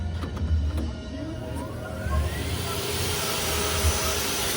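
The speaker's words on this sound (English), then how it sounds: "Here they got like vacuums." Air blower shoe-cleaning machines at a public spot in Seoul, a steady loud rushing whoosh with a deep rumble underneath that swells slightly as the airflow continues.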